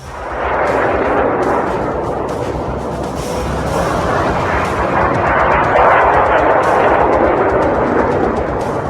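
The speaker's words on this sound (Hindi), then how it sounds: "ईरान की तरफ से फिर से मिसाइल अटैक लॉन्च किया गया।" A missile attack from Iran on Israel produces a loud, continuous roaring rumble with crackling, blast-like texture, sustained throughout without a pause.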